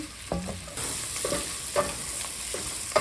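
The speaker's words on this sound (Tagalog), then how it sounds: "Ito yung igigisa ko para masarap. Sibuyas. Bawang." Onion and garlic sauté in a pan with a close sizzle that swells as the food is added, and a few stirring scrapes and clinks sound over it.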